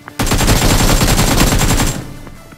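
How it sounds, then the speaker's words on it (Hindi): Close, loud burst of automatic gunfire sprayed in BGMI, rapid evenly spaced shots for about two seconds that cut off abruptly, followed by quieter faint movement. "मैं अपनी गन पकड़ता हूँ और तुरंत ही यहाँ पे भाई के ऊपर स्प्रे लेके भाई को फिनिश कर देते"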